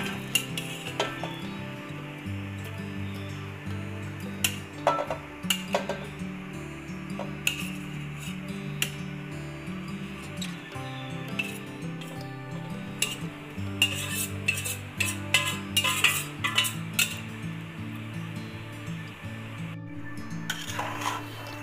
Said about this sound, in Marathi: साबुदाणा परतताना शिजवताना आपल्याला तो एकसारखा हलवत राहायचा आहे